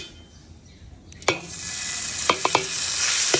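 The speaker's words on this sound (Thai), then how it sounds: "เราผัดกะปิให้หอมก่อนนะ" Shrimp paste stir-fried in leftover oil from frying shrimp for a Thai rice dish sizzles steadily, rising after a spatula clatter, with a few sharp scrapes and knocks against the pan near the end.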